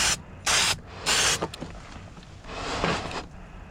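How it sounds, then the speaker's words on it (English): Ure-Blend blending solvent sprayed along the edge of fresh clear coat on a car quarter panel: two short, loud aerosol hisses, then a fainter, longer spray. "you spray it right along the edge of your new clear coat"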